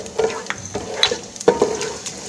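Cumin seeds dropped into hot oil with whole spices for a beef curry, crackling and sizzling loudly up close in short bursts.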